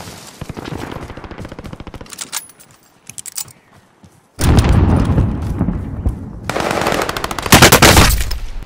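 Rapid automatic gunfire and bursts of shooting in the battle-royale video game Warzone, loud and close, with dense volleys stopping briefly mid-clip before heavy firing resumes and continues to the end.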